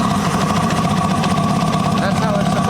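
A 1980 Kawasaki KZ750 motorcycle engine idles steadily with a low, even putter, running on its own without revving.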